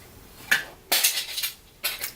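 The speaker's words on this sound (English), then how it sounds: "that was my cat knocking something off the table" Crashes and clatters from a cat knocking things off a table, with a sharp clink then two louder rattling bursts of tumbling objects like dishes or cutlery, fairly close by.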